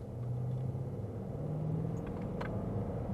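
2015 Bentley Flying Spur with over 500 horsepower accelerating, a deep, loud engine rumble building steadily from inside the car, with brief shifts in pitch as it pulls.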